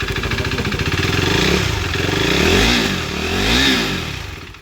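A KTM RC 390 motorcycle engine running close by after being repaired, with a rapid steady idle thrum broken by three loud swelling revs that rise and fall, the last two spaced about a second apart.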